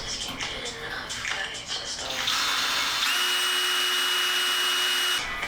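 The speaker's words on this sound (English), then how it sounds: "Drill out the holes in the chassis." A power drill bores holes through a car chassis during an Exocet build, first in short rough bursts and then in one steady high whine lasting a couple of seconds. Close, moderately loud workshop sound.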